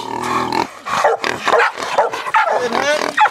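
Hunting dogs used for hog hunting bark and yip loudly at close range in a rapid, overlapping series, with some whimpering mixed in.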